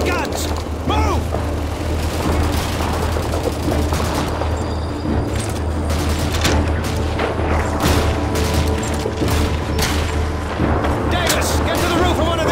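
Heavy battle din from Call of Duty 2 with continuous loud booming artillery fire and bursts of gunfire, dense and unbroken, while voices shout over the fighting.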